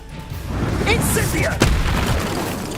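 In the Hogwarts Legacy video game, the Expulso spell detonates with a deep boom and a sharp burst, layered over combat sounds and voices.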